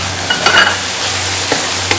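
Beef qeema with green chillies and mint cooks in a pan, giving a close, continuous sizzle with a couple of louder stirring scrapes near the start and brief taps later.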